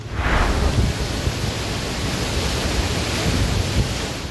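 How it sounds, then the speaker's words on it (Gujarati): Rushing rainwater roars steadily and loudly down hillside streams, a broad continuous wash like a stream tumbling downhill, with no voices, during heavy monsoon rain in South Gujarat. "ડુંગરોમાંથી ખડખડ વહેતું પાણી"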